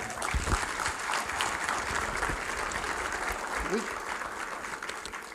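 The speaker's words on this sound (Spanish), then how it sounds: "Denle un fuerte aplauso al Señor." A church congregation claps loudly for the Lord during a Spanish-language sermon, sustained applause from a crowd filling the room, with a brief voice rising partway through.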